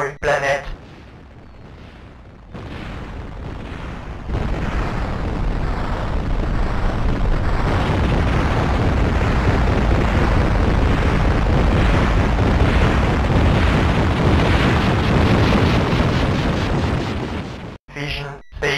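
A planet is destroyed in the video game Captain Blood, a long roaring rumble of explosion that swells after a quiet start and holds loud and dense for over ten seconds before cutting off abruptly.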